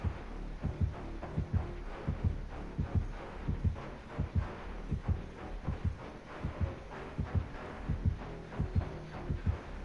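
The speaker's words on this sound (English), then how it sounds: "I'm not coming out until my heartbeat goes away." A killer's terror radius heartbeat in the video game Dead by Daylight, a steady low double-thump pulse repeating evenly throughout, fairly quiet and alone.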